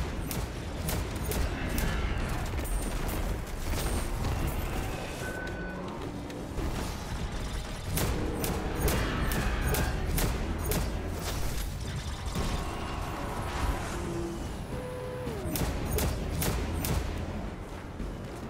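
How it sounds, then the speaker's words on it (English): The D.A.R.C.I. exotic sniper rifle in Destiny 2 fires in quick succession, a dense run of sharp shots spread across the whole stretch over a busy game soundscape, moderately loud. "I'm actually going to pull up a clip now to show you just how quick you can fly through a stack of ammo"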